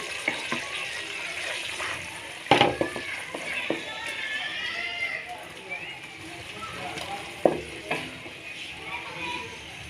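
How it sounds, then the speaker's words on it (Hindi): Onions brown in a cup of oil for palak gosht, a bubbling sizzle broken by sharp clinks and scrapes of a spoon against the pan, with a voice talking over part of it. "1 कप मैंने ऑयल का लिया है, तो हम इसको अच्छे तरीके से पहले प्याज को ब्राउन करेंगे।"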